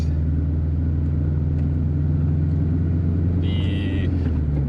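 A 1988 Ford LTD Crown Victoria with a 5-speed manual drives along, its engine and road rumble loud and steady from inside the cabin, with a brief higher whine near the end.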